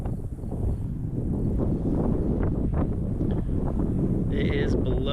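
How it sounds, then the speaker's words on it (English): Strong wind blows outdoors during a dove hunt, buffeting the microphone with a loud, continuous low roar and gusting rumble, while someone talks over it and faint whistling sounds appear near the end. "We got a strong wind."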